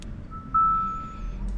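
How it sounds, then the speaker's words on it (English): A 2014 Hyundai Santa Fe switchblade key finishes programming with one steady electronic beep ringing out clearly for about half a second over a low engine-like hum, with no talking. "You just press on the lock button until you hear the beep and program is completed."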